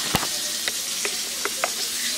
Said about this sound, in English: I have some eggs over here boiling right now.